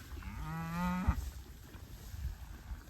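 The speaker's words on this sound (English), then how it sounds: "Those are some of Dad's cows I've got in this group." Cattle in a spring pasture, one clear, fairly close moo lasting about half a second, followed by quiet outdoor ambience with wind-like background noise.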